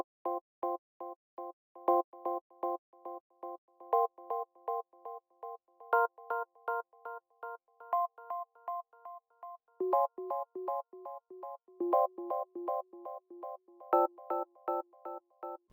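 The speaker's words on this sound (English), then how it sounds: "The next instrument that I used were these gentle touch keys," Gentle touch keys synth with a triplet delay plays a steady, repeating pattern of soft, bell-like chords with echoing repeats, bright and moderately quiet, with no voice.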